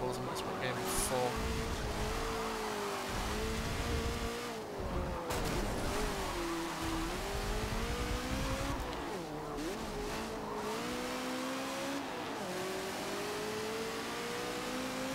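Old open-wheel race car engine in the Forza Motorsport 7 video game, revving and shifting through rising and falling pitches with occasional tire squeal, heard beneath someone talking.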